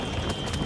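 Horse hooves clip-clopping steadily as a horse pulls a cart in the video game Red Dead Redemption, close and fairly loud over a continuous background rumble.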